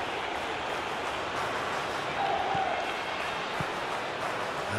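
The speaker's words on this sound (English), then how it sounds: "Crowd appreciates good football all round there." A football stadium crowd at a Euro 2024 semi-final between England and the Netherlands applauds, a steady, dense wash of clapping and crowd noise lasting throughout.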